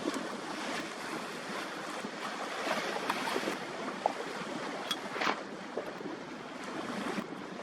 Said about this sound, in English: James Goodfellow enjoying these waves. It's perfect